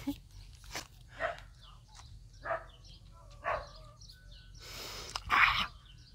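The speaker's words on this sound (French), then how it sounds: "Les chiens du voisin." A neighbour's dogs barking at a distance, several short, faint barks spaced apart, with birds chirping in the background.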